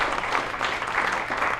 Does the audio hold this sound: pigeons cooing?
no